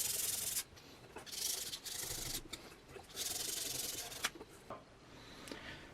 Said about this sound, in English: I'm giving a quick rub with some sandpaper.